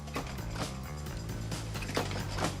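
Factory machinery with a moving table carrying Zippo lighter case halves and hinges in welding braces, a dense run of rhythmic mechanical clanks, ratcheting and creaks, close and steady throughout.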